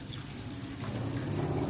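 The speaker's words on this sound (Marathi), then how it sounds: "आता मी यामध्ये दोन वाटी एवढं पाणी घालते" Water pours steadily into a pot for rasgulla syrup, a continuous gurgling splash that grows slightly fuller toward the end.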